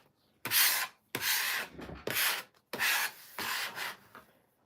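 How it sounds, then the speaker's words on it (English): Quilt fabric scraps being trimmed, heard as four close, rasping cutting strokes separated by short pauses, with no talking. "Basically, I'm trimming off the peaks and valleys in this piece"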